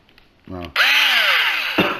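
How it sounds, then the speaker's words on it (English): An electric impact hammer whirs up sharply and runs with a loud, steady mechanical whine, preceded by a short buzzing burst and ending as it cuts off, up close. "this is an electric hammer."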